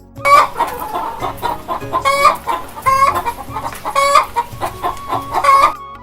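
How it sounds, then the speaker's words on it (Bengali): A chicken clucks repeatedly in short, regularly spaced bursts, loud and close, with no talking over it. "এটা হলো মুরগি। মুরগিকে ইংরেজিতে বলে চিকেন।"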